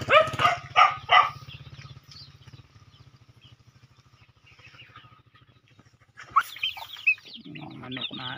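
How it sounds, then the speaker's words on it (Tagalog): Several bursts of hen clucking up close, a long low purring stretch in between, then a flurry of louder clucks and cackles. "Yung manok natin guys."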